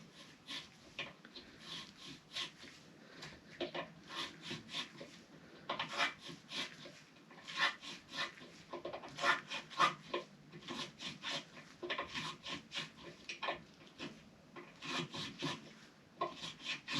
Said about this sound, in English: Just clean these holes out.